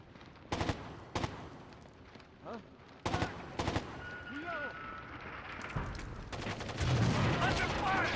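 Video game gunfire in several sharp, loud bursts separated by short pauses, with brief whistling and whooshing effects between them and a heavier rumble of shots toward the end.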